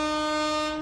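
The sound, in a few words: train sounding its horn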